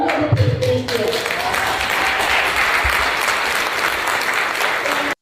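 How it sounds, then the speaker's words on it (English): A crowd at a political gathering breaks into loud, sustained applause and cheering that holds steady for several seconds before cutting off abruptly. "they're cheering this on"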